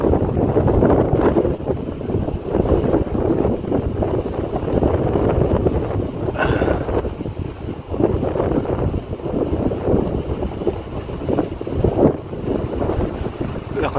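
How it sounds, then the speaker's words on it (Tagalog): Strong wind roars steadily across the microphone on a mountainside joy ride toward a neighbouring village, a loud rushing buffet that stays constant for the whole stretch with brief gusty swells. "Lakas ng hangin."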